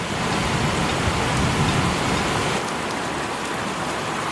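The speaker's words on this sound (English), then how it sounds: "Told you it was raining" Steady rain falls outdoors in a continuous broadband hiss of drops on surfaces, loud and close, holding an even level throughout with no voices.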